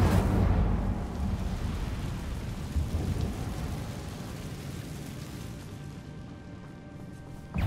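A fire spell cast in Hogwarts Legacy, a loud rumbling whoosh of flame that starts at full strength and slowly fades over several seconds.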